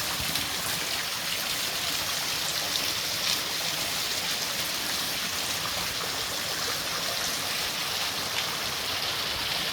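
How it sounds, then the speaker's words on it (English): A tiny waterfall and stream in the Eastern Kentucky Appalachian woods rush after heavy overnight rain, a loud, steady broadband splashing wash, close by and without talk. "Tiny little waterfall there."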